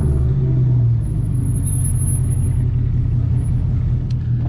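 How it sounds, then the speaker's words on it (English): A supercharged Camaro ZL1 engine rumbles loud and close on a downshift, a deep continuous roar that holds steady with a slight swell early on, heard from inside the car at night. "Oh, that supercharger when I downshift."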